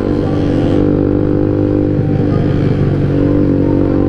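Motorcycles speed along an Indonesian road, a loud steady engine drone with dense low harmonics running the whole time, heard up close from a riding motorcycle without any talk.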